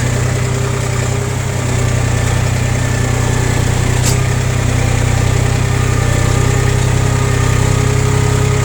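A close, loud, steady engine drone hums continuously with a strong low rumble and no clear change in pitch throughout.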